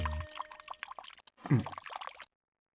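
Water is poured into a drink to dilute it, a brief splashing pour in the middle with other sounds around it, before the sound cuts off to silence.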